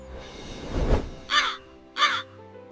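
A crow caws twice in clear, harsh calls about half a second apart, close and prominent after a brief duller rustle.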